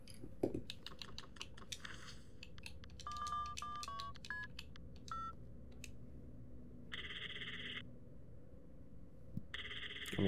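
Telephone keypad tones beep in short bursts as a number is dialed in the Five Nights at Freddy's game, followed by two long electronic ring tones over a low background hum.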